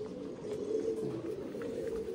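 A male Madras or Andhra pigeon coos softly, a low, continuous throaty murmur close by that wavers slightly in pitch and stands alone without talk.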